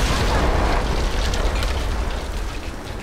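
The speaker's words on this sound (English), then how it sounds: "I legitimately almost got struck with lightning" Lightning strike with thunder in Tomb Raider: Definitive Edition, a heavy, sustained rumbling roar that fills the scene and slowly eases off, loud and close.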